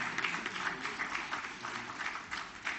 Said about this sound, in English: a round of applause for NTPC Limited